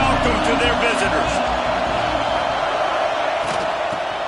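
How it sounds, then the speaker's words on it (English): A packed stadium crowd at a night college football game roars in a loud, unbroken wall of noise, with a commentator talking over it. "This crowd bringing an ear-splitting welcome to their visitors"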